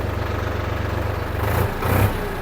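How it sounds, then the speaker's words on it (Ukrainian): A Solis 50 RX three-cylinder mini tractor engine starts without a glow plug and runs at a steady, low, pulsing idle close by, swelling briefly twice as it picks up speed. "Я сподіваюся, чути, як він працює. Він хоч і трьохциліндровий, але реально працює як чотирьох."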